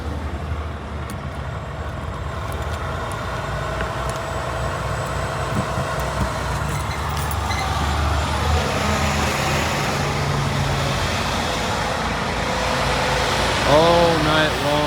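Heavy trucks idle and move through a Pilot truck stop at night: a constant low diesel rumble that swells louder toward the end, with brief higher whining tones near the close.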